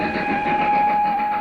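A train runs on the rails of the Trans-Siberian line out of Vladivostok, a steady loud rumble with a sustained tonal whine and no distinct clacks, alone without talk.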